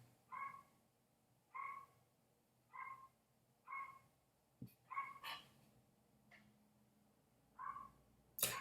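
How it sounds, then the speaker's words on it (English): A dog barks in a steady rhythm, roughly once a second, with a few scattered knocks and clicks near the end. "That dog is really annoying me."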